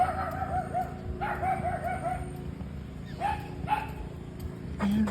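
A dog barks a few times in short bursts at some distance, with pauses between the barks and a low background hum.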